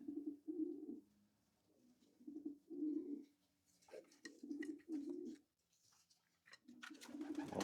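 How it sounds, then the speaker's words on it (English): Racing pigeons in a loft coo in repeated low, soft bursts, fairly close, with some rustling and flutter noises between the calls. "So we got birds in each one of these."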